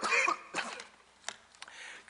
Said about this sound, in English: I inherited a cough last week, and I see it's deciding now to reappear at this timely moment